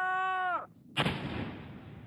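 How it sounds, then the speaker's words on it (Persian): Blast from old shipments of gunpowder being destroyed near the Afghan border, a single sudden heavy explosion after a tone cuts out, followed by a long rumbling roar that fades slowly. "انفجار!"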